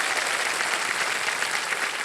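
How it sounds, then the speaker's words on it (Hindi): Studio audience applause on a televised quiz show for a contestant's wife, steady dense clapping throughout without a break, no voices. "इनके लिए भी तालियां बजाएं"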